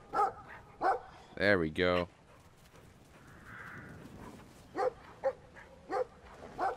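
Farm dog barking in the video game Brothers: A Tale of Two Sons, several sharp barks spaced through the scene with a brief spoken phrase early on and soft ambient game sound between.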